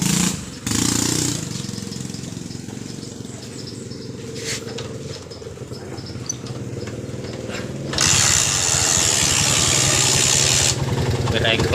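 Honda Mega Pro motorcycle with an ignition fault is kick-started and settles into a rough idle, with a sharp burst at the start and another surge of revving later, while someone talks nearby.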